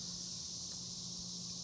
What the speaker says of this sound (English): These are the loudest dang cicadas.